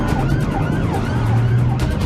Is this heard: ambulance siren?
yes